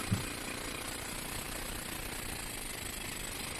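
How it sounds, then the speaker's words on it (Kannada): A jackhammer drills into rock at a quarry site near Mudigere, giving a steady, dense, loud rattling roar that runs unbroken for the whole stretch with no voices over it. "ಈ ಡ್ರಿಲ್ಲಿಂಗ್ ಕೆಲಸ ಸಿಕ್ಕಾಬಟ್ಟೆ ಕಷ್ಟ ಆಗೋರು ಯಾಕಂದರೆ ಹೈ ಪ್ರೆಷರು ಸಿಕ್ಕಾಬಟ್ಟೆ ವೈಬ್ರೇಟ್ ಇರುತ್ತೆ"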